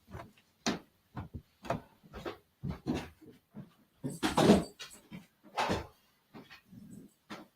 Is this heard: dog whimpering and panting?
yes